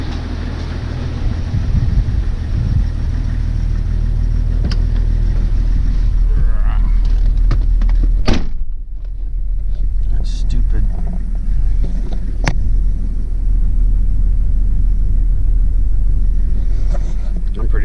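A Jeep XJ with a newly installed engine runs and drives, its steady low rumble close and loud throughout, with a brief dip and a sharp clunk midway.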